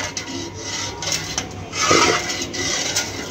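A spoon scrapes and rubs through dal in a metal pot at home, a steady close rasping stir with a louder swell midway, no voices over it.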